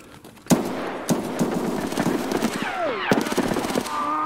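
Gunfire in Escape From Tarkov on the Factory map: loud, sharp shots crack out in separate bursts, with a rapid automatic string near the end over a busy, noisy in-game background.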